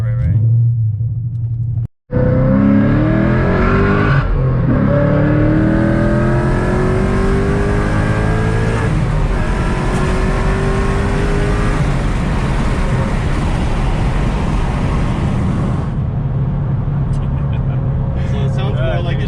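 A full bolt-on 5.0 Mustang running E85 idles with a deep, burbling rumble, then revs hard several times in rising, swirling sweeps, loud and close, while people talk over it now and then.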